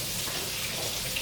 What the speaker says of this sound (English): Now that it's all rinsed off,